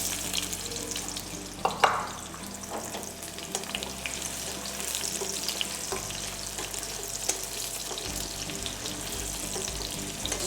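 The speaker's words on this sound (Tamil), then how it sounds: "ஸ்லோவாக அப்படி கொஞ்சம் கொஞ்சமாக ஃப்ரை ஆகி கிட்டத்தட்ட ஒரு 7லிருந்து ஒரு 10 நிமிஷம் இந்த மாதிரி கொஞ்சம் லைட்டாக ஃப்ரை ஆகணும்." Small peeled potatoes fry in hot mustard oil with whole garam masala, giving a steady close sizzle and hiss throughout, with a few louder spatters and stirring scrapes near the start and no talking.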